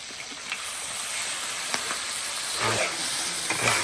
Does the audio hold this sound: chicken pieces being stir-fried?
yes